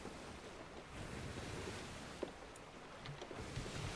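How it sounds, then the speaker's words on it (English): Ocean waves in the pirate sailing video game Sea of Thieves wash and roll continuously with a windy, surf-like hiss at a steady, moderate level, and there is no talking. "I'm trying to see if the waves would go down."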